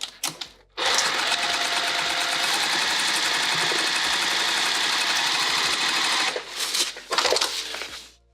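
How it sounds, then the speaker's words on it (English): A sewing machine runs steadily for several seconds stitching the boxed corner of a tote bag, loud and close, with brief handling clicks before it starts and after it stops. "Let's go to the machine, we're gonna sew it."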